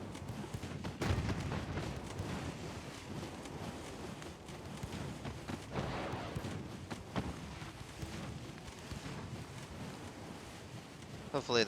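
Naval guns firing high-explosive shells in Ultimate Admiral Dreadnoughts, a steady series of booming blasts over rumbling sea and wind, with a sharp loud burst at the very end.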